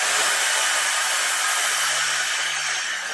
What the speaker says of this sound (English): Oh wait, I have my blow dryer extra now.